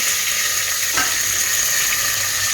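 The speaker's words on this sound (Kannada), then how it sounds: "ಮೆಣಸಿನ ಫ್ರೈ ಆಗಲಿ, ಒಂದು 2 ನಿಮಿಷ" Chilli and onion frying in a pan for rasam, a steady, fairly loud broadband sizzle that holds evenly throughout with one brief stir-like scrape near the middle, no talking.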